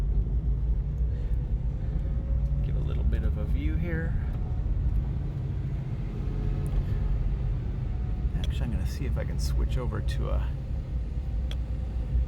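Engine of a Porsche 997 Gemballa Avalanche tribute driven hard on a test drive, a steady loud low rumble throughout with someone talking over it.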